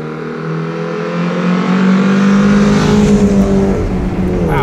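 A Mercedes 190E four-cylinder engine revs loudly and smoothly while driving, its tone climbing steadily through the gears in a sustained, close-up drone.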